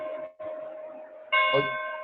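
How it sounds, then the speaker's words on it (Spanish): Church bells ringing with a sustained, resonant metallic tone that swells louder partway through, striking with steady overlapping harmonics and no talk over them. "Ya están tocando las campanas."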